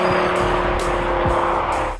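A Lamborghini Huracan's Audi-designed 5.2-litre V10 roars at close range, a loud sustained high-revving howl with pitch rising and settling in short surges, no talking.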